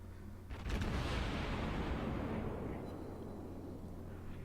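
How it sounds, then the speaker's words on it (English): Tirpitz secondary gun batteries firing in World of Warships, heard as a sustained distant roar of overlapping gunfire and blasts that swells quickly and then slowly fades. "And his secondary batteries are opening fire."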